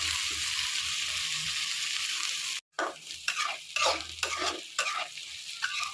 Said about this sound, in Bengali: পেঁয়াজটা আমার ভাজা হয়ে যাচ্ছে।